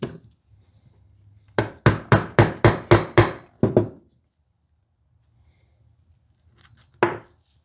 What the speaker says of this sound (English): Let's hammer this in.